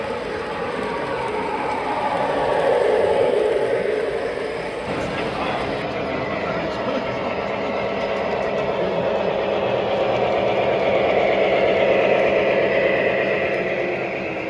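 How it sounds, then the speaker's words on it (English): A subway train rolls in with a steady, loud rumble and hiss that swells and eases over several seconds, while someone talks over it. "Subway is coming. Subways and minis."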